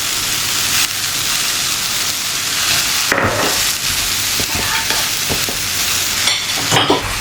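Apples with a spoonful of sugar sizzle and fry in a pan for a crumble, a dense, loud, continuous hiss with scattered crackles and occasional stirring scrapes.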